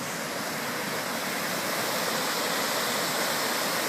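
Small waterfalls near a canoe-kayak base outside Poitiers, a steady dense rush of falling water, close and continuous with no voices.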